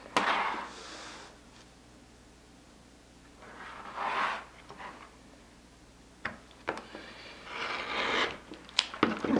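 Fabric for a holiday chain garland being cut into strips about seven inches wide, with soft intermittent scissor snips and rasping fabric sounds in short bursts, fairly quiet and with no talk.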